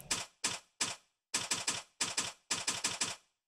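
A typewriter-style text effect from the video game Yakuza Kiwami sounds as crisp, close key clacks: three single strikes, then quick triplets and a group of four, with clean silence between bursts.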